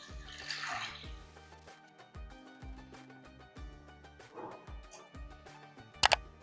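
Water poured from a vessel into soaked chana dal in a cooking pot, a short gushing splash up front followed by lighter trickles and clinks, ending with a couple of sharp metallic taps.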